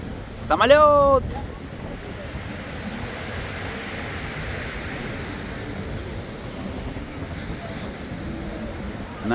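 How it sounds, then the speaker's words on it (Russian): Rough sea surf at Nice washes steadily along the shore as a broad, even roar at moderate distance, after a brief louder burst at the start. "Море сегодня бушует просто нереально"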